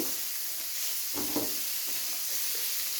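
Onions, four green chilies and ginger slices sizzle in a hot pan for paneer butter masala, a steady frying hiss with a few soft scraping stirs, close and with no talking.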